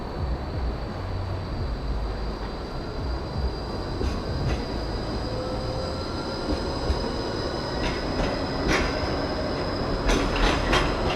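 A tram rolls past close by as a steady loud rumble of wheels on rail, with faint wheel squeal and clacking building toward the end.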